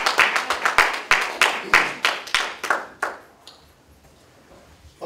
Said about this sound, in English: Y'all give Diamond a round of applause.